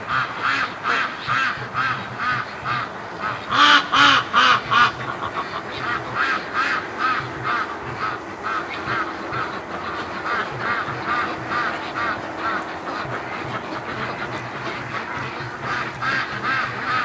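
A flock of ducks quacks loudly and continuously up close, a dense rhythmic chorus of overlapping calls that swells briefly and then keeps steady as a morning wake-up racket.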